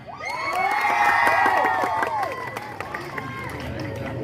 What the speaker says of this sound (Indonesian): Sekarang boleh tepuk tangan.